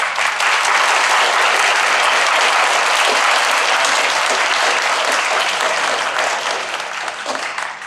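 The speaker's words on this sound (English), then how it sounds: "We'll give you a round of applause" A school auditorium audience applauds theater department students standing at a middle school award ceremony, dense sustained clapping from many hands that fades slightly toward the end.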